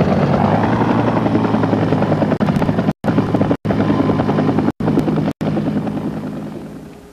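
Iraqi military helicopters in a 1991 Gulf War battle scene, a loud, steady rotor drone with dense chopping that stays close and continuous before thinning slightly toward the end.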